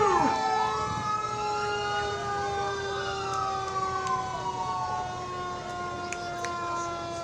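A volunteer fire department engine sounds its siren in a small-town parade, a wailing tone sweeping up and holding steady, fairly loud over a background of crowd and street noise with a few short sharp clicks.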